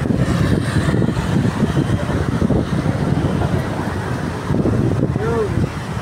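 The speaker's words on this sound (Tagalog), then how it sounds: "Ang lakas ng hangin, ang lakas ng hangin." Strong wind buffets the microphone with a constant low roar and rumble, while a voice speaks over it.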